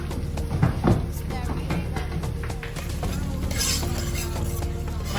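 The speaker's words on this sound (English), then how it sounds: "So I'm going to leave this to fry a little." Steady broadband sizzle of sauce with caramelized onion frying in oil in a pan, with occasional clinks of a utensil stirring against metal.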